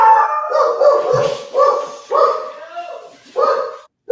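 Four dogs barking and howling together, close and loud, in a run of overlapping yips and bow-wows with short pauses between bursts, no talk.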